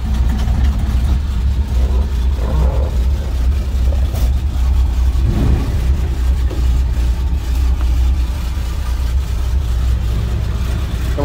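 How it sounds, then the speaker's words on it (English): A 1947 Chevrolet Loadmaster 5400 COE truck's inline six idles steadily, a smooth, continuous low engine rumble heard up close outdoors with no talk over it. "I guess if you can hear that, pretty smooth running inline six."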